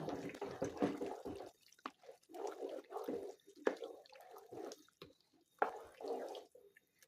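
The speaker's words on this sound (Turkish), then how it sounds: "Alttan alttan kaynamaya başladı" Spicy pepper sauce for a hot breakfast spread starting to simmer in a pot: faint, irregular bubbling pops and soft liquid plops, quiet and close.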